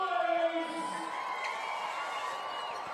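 A home crowd cheers and shouts at a women's basketball game in a large arena, a broad wash of crowd noise with a few whoops rising above it, steady and moderately distant.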